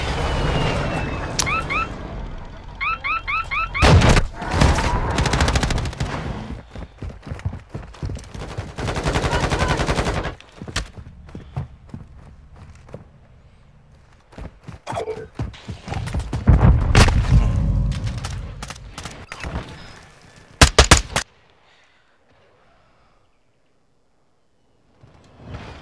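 M16 fire in the video game Warzone 2.0: loud bursts of rapid gunshots and single cracks spread across the stretch with short pauses, heavy booming hits near the end, then sudden quiet.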